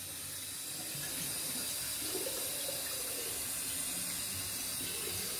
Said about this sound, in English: Water comes in, and I squirt it that way.